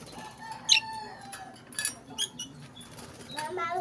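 A blue pet parrot at a live bird spot in the Philippines gives sharp chirps and short calls with soft wing flutters, under nearby people talking.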